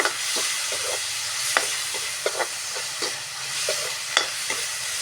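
Pork and spring onions stir-fried in a pan: a constant sizzle with intermittent clacks and scrapes of a spatula, close by, with no talking.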